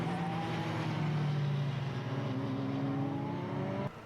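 Formula BOSS racing cars launching off the start at Kirkistown circuit on a clear, sunny day, several engines roaring loudly and continuously together with rising pitch as they accelerate, then cutting off sharply near the end.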